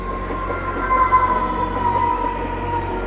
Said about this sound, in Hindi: आप देख सकते हैं ट्रेन आई है।